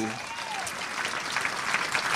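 Applause from a concert crowd at a show, a dense steady wash of clapping and cheering that swells toward the end, with a voice mixed in.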